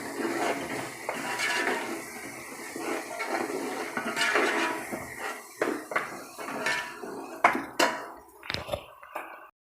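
Spices being mixed and roasted in a cooking pot for chicken yakhni pulao, with repeated metallic scrapes and clinks of a spoon against the pot over a soft sizzle, growing sharper and more spaced out toward the end.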